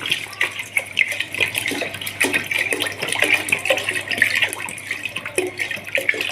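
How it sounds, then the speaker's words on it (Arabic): Water poured into a pot of rice set on the stove, a steady splashing pour with trickling and bubbling that runs for several seconds, close and fairly loud. "احط عليه ميه"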